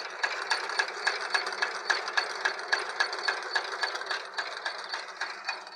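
A homemade steam engine runs on steam raised by a fire, a steady fast mechanical clatter with evenly spaced knocks over a hissing, rattling wash, close and continuous.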